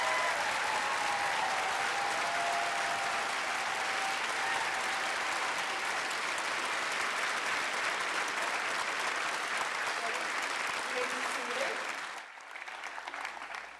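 Sustained audience applause for honorees at a university honors convocation, a dense even roar of clapping from a large crowd that fades out near the end.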